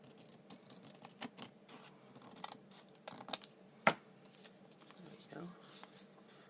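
Scissors snipping paper to fit a journal page, a series of short close crisp cuts and rustles with one sharper snip, over a low background hum.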